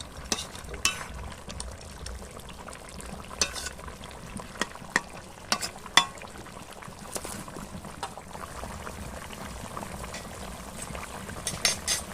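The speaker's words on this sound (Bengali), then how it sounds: "এই সবজির সঙ্গে আবার জাল হোক ভালো করে।" A curry of fried fish, potatoes and taro greens bubbles and sizzles in a pan, with a soft continuous simmer and scattered clinks and scrapes of stirring throughout; no talking.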